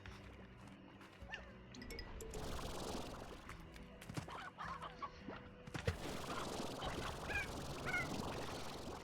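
Chickens in the video game Slime Rancher, clucking and squawking in scattered bursts against busy game ambience and footsteps, fairly quiet overall.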